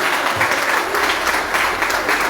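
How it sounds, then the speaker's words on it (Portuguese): A congregation at a church healing service claps steadily and loudly for a couple of seconds, a dense patter of hands without pause. "Aplauda Jesus aí,"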